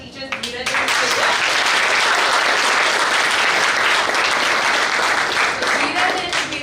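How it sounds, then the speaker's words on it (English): Sustained, dense audience applause at an investor panel event, many hands clapping steadily and loudly throughout. "So can we give a big round of applause to our teachers, Neeraj and Shweta?"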